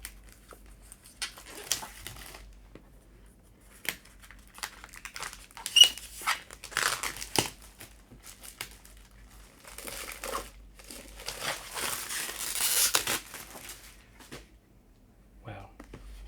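Protective plastic wrap on an illuminated edition book with a slipcase crinkles and tears in irregular bursts as it is pulled open close by, with quiet gaps between handling and a voice speaking now and then.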